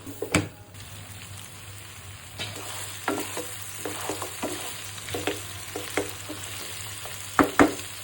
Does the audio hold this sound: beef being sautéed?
yes